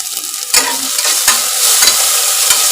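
Torn curry leaves crackle and spit in hot oil while being stirred for sprouted fenugreek rice, with a sharp burst of sizzling followed by steady frying and a few scraping stir strokes close by.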